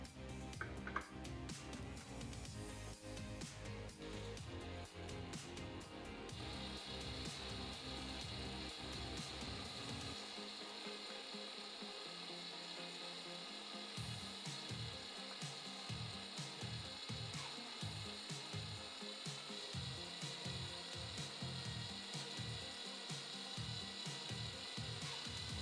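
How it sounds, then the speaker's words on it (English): A drill fitted with a screw extractor slowly backs out a stripped screw, giving a faint grinding, rasping motor sound that shifts pitch partway through and then turns into rhythmic pulsing bursts, with no voices. "Now I've flipped the extractor around so we have the extraction portion sticking out of the drill, and we're gonna go ahead and remove this nice and slow."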